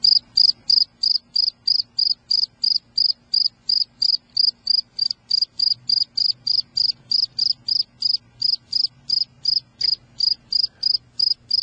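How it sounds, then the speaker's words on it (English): Rapid, regular chirping of a cricket, sharp high pulses repeating steadily and close, with a faint low hum beneath. "That's right. Nothing but crickets."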